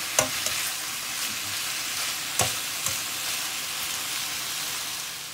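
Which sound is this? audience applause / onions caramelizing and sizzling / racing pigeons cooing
onions caramelizing and sizzling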